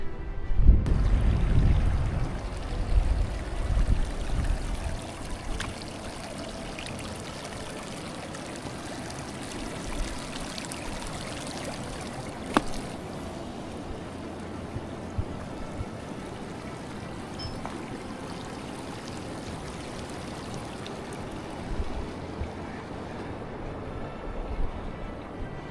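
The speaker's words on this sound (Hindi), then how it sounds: "इस साइड से चश्मे का पानी आ रहा है, ये ग्लेशियर्स का है।" A glacier-fed spring stream runs near Kharkhari Lake, a steady rushing flow of water that holds constant throughout, with some louder handling or wind noise at the start.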